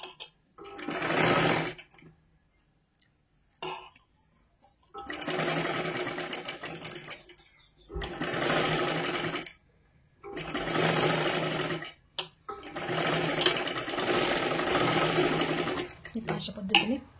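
A sewing machine runs a double row of stitching along a blouse seam in several bursts of steady whirring, each lasting a second or a few seconds, separated by short pauses, loud and close.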